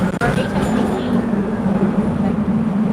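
Hong Kong tram rumbling along its tracks through the city, a steady loud low rolling drone with rattling carriage noise throughout.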